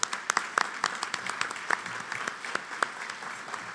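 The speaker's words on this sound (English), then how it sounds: "Can we give them a round of applause?" An audience at a business lunch applauds in a short, moderate burst of clapping, with individual claps standing out from the wash.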